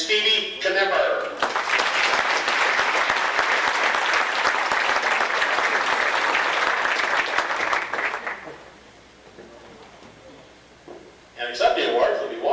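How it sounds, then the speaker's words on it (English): A banquet audience at an auto racing awards night gives a strong, sustained round of applause for a five-time track champion, about seven seconds of dense clapping between stretches of a speaker talking. "How about a big round of applause?"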